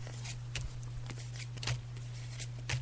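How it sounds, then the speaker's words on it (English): Tarot cards are shuffled in brief, soft riffling bursts a few times over a steady low background hum, close by and fairly quiet, with no talking. "as you can hear, I'm just shuffling the cards now"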